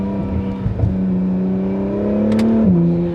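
An Acura NSX Type-S with aftermarket exhaust and downpipes hums under load, its engine tone rising smoothly, then a sharp turbo whoosh and flutter before the pitch steps down, close and loud with no talking.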